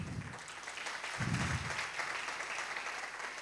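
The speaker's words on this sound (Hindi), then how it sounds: "आप लोग फिर भी इतनी तालियां बजा रहे हैं।" Audience applause at a live comedy and dance show, a steady broadband clatter of many hands filling the room throughout at moderate level, with no talk over it.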